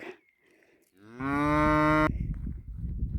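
A cow on a farm road moos once in a long, loud, drawn-out call while being watered from a hose into a plastic-lined tub, with faint rustling before it and water and handling noise after.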